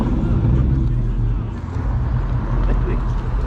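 Ford Mustang with a Coyote V8 rumbling at night, a loud, steady, deep engine drone that swells and dips slightly, with voices talking over it.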